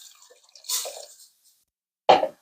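Half a cup of pasta water splashes into a pot of heavy cream for baked mac and cheese, heard as two short, close, wet bursts separated by a silent pause.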